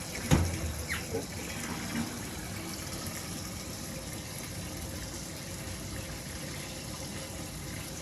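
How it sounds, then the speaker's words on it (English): Hot water drains from a home water heater in a steady, continuous gush and hiss that runs close and even, with a couple of knocks at the start and no talking over it. "And you can see it just draining the hot water heater."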